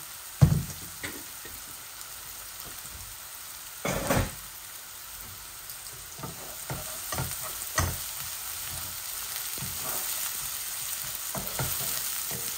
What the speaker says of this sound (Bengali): আমার পেঁয়াজটা আর একটু বাজা বাজা হয়ে যাক